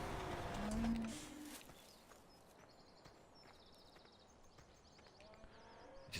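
Cows moo in a farming video game, one low moo standing out near the start and then fading into a quieter farm ambience with faint clip-clop-like taps and chirps. No one speaks.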